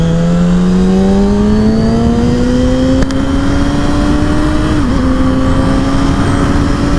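A Yamaha R6 sport motorcycle with a +3 rear sprocket runs loud and close while being ridden, its engine note climbing smoothly and steadily in pitch under constant throttle, with a brief dip near the end as it shifts, and no talking.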